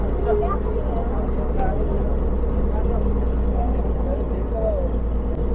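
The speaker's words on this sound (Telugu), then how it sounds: "ఇప్పుడే మన బోట్ స్టార్ట్ అవుతుంది" A tourist boat engine at Bhavani Island in Vijayawada runs with a steady, close low rumble as people talk over it.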